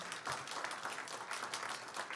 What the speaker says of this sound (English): a round of applause for Adrenaline and Dan.